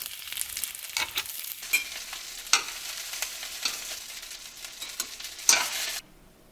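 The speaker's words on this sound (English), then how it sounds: "Okay, the oil is hot now. So I fry this baga." Panko-coated ahi belly fries in hot oil, a bright crackling sizzle with bursts of spitting and pops as pieces go in, then cuts off abruptly.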